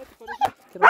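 Small dogs near a remote mountain cave dwelling give short yips and a sharp bark, close by, mixed with brief human vocal sounds.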